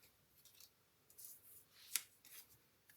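Scissors snipping out a card shape for a handmade card, a few soft crisp cuts with one sharper snip in the middle, close and quiet with no talk.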